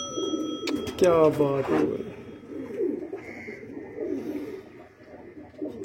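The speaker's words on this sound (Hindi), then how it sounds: "कम से कम 7 साल का कबूतर है।" Ferozpuri breed pigeons cooing in a loft, soft low rolling coos repeating near the microphone, while someone speaks briefly over them.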